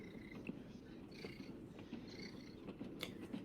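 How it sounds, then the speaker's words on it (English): A cat purring close by, a low continuous rumbling purr with a few faint higher trills and small clicks on top. "Aw, heard the kitty purr."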